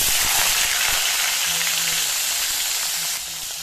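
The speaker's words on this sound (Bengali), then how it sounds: "তো শুটকি মাছটাকে আমি একটু ভেজে নিচ্ছি।" Chandana dried fish fries in hot oil in a wok, giving a loud, continuous crackling sizzle up close that eases slightly toward the end.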